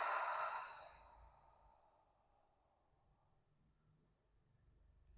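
A single deep exhale during a yoga session, breathy and close at the start, then trailing off into a quiet room.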